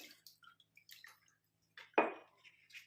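Scattered drips and splashes of water poured over freshly dyed hair, then a sudden louder pour or splash, followed by a few lighter trickles.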